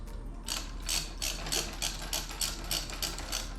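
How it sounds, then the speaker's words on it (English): A ratchet clicks in repeated bursts while the stem clamp on a precision steering stabilizer of a 2021 Yamaha YFZ450R ATV is tightened, the clicks close and steady with no talk. "tightening up the stem clamp on the precision stabilizer"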